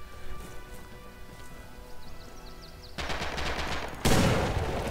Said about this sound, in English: I hear a PPSH unloading.